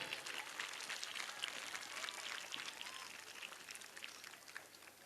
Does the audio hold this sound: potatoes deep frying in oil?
no